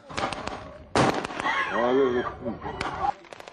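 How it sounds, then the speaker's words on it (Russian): Sharp bangs and pops of gunfire and explosions at a battle reenactment burst out in rapid, uneven bursts, loud and close, with a voice and harmonic calls threading through the noise. "Взрывы, выстрелы, штурм немецких солдат и оборона советских войск"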